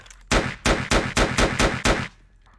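Junk machine gun from 7 Days to Die firing six loud, evenly spaced shots with a metallic ring, each burst close and punchy with a brief tail after the last.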